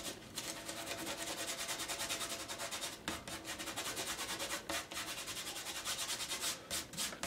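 Masking fluid is rubbed off a watercolour mountain painting, giving a continuous close scratchy rubbing with short rhythmic strokes and brief pauses, alone without talk.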